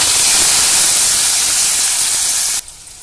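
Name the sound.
potato pieces frying in spice tempering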